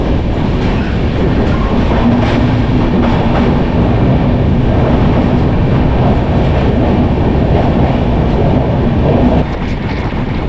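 A Konkan Railway train runs through monsoon rain, its steady loud rumble and rolling wheel noise filling the whole stretch with faint clattering, with no talking.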